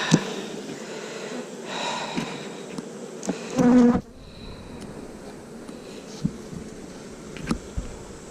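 Honeybees buzz in a dense, continuous hum around a hive frame held close by, with a brief louder snort-like burst partway through.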